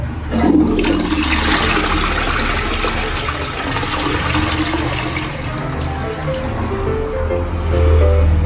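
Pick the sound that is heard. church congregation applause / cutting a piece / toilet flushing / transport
toilet flushing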